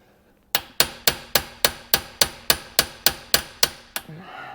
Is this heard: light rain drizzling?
no